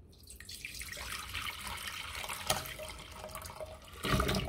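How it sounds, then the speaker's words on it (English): Walnuts and water tumble into a dye pot, a splashing, gurgling pour that starts abruptly and runs on with a rising sloshing burst near the end. "I'm chucking the walnuts in and then probably adding a little bit more water"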